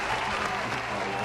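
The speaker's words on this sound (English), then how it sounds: "There's an applause break happening" Applause from an audience at a virtual trivia event, a short steady patter of clapping mixed with faint crowd noise and some background voices, moderately quiet.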